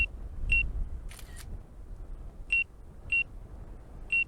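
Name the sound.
drone beeping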